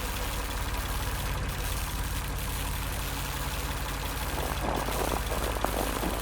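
Diesel generators inside a shed in an adventure video game, a loud, steady low idling drone with a chugging pulse that continues without a break.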